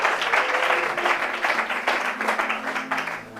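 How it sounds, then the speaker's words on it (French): Applause and acclamation from a church congregation during a Bible-teaching sermon: a dense, steady wash of clapping and cheering voices close by, sustained without a break. "Acclame la puissance de la parole"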